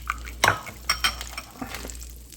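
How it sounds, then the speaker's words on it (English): A fork whisks eggs for a cheap omelet, giving a few quick, close scraping clinks and taps against the bowl in short irregular bursts, with no talking. "Just use a fork, blend them up really good."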